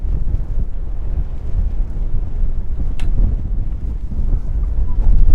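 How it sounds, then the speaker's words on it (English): Strong wind on the hilltop at Black Hill buffets the microphone in a constant low roaring rush, gusting heavily throughout with no voices. "it's so windy"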